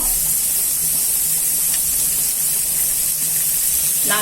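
Chillies and garlic sautéing with onion in a pan, a steady hiss and sizzle running continuously at close range, with a brief clatter near the end.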